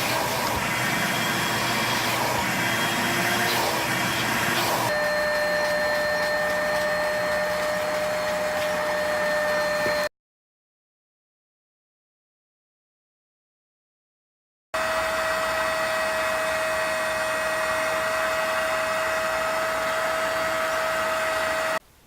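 The floor mats of a Nissan 350Z get vacuumed and then run through a carpet extractor, a loud, steady motor whine with a constant tone that changes pitch midway, cuts out to silence, then starts up again.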